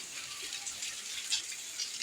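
Flood water pouring into a home, a steady broadband rushing and splashing wash that stays fairly faint and even throughout, with no voices.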